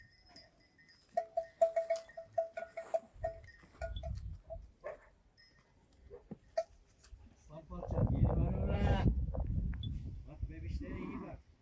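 Sheep bleats sound in short bursts early on, followed by a loud stretch of people talking nearby with animals in the background.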